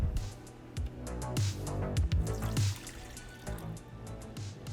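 Warm water poured into a large mixing bowl holding active yeast, sugar and salt, with splashing, dripping bursts and uneven trickles over several seconds, close and fairly loud.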